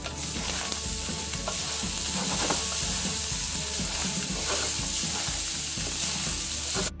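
Vegan fried rice with vegetables, browned tofu and soy sauce sizzles steadily in a hot pan, with scraping and clinking as it is stirred throughout, loud and close without any talk.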